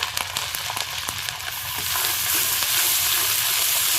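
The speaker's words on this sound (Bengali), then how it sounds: "এবার মশলাটা খুব ভালো করে কষিয়ে নেব।" Ginger, green chili and cumin paste fries in a pan with tempered cumin seeds, giving a close, steady sizzle. A few stirring scrapes come early before the frying settles into a louder, continuous hiss.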